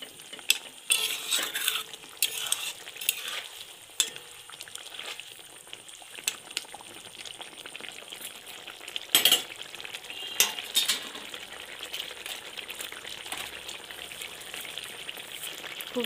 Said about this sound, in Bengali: সেগুলোকে এখন মশলার মধ্যে দিয়ে বেশ কিছুক্ষণ নাড়াচাড়া করবেন